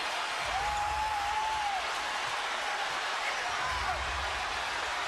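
A basketball arena crowd of 18,500 in Philadelphia on its feet cheering after a tying score: a constant roaring wash of voices and applause fills the space while a commentator talks over it.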